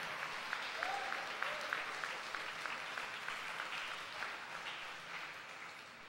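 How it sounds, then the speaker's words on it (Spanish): Church congregation applauding during a sermon: a steady, faint wash of clapping heard from a distance that holds for several seconds and then slowly fades. "Dele un fuerte aplauso al Señor."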